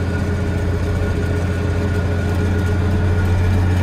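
A 1984 Steiger Panther III tractor engine drones loud and close with a deep, steady low rumble, building slightly as the throttle opens while harrowing a hilly field.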